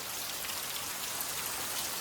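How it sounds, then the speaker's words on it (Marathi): Heavy rain pours down steadily in a village, a dense, even hiss of drops on surfaces that stays loud throughout with no voices. "बघू शकताय पाऊस स्टार्ट झालेलो असा आणि जोरदार पावळे गळणे इतको पाऊस पडता."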